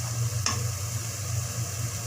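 Spice paste frying steadily in a pan while being stirred for a vegetable curry with beans, carrots, potatoes, tomatoes and lentil dumplings, a continuous soft sizzle with a brief scrape near the start, no talking.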